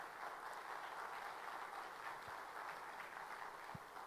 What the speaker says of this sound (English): a big round of applause for everyone sitting here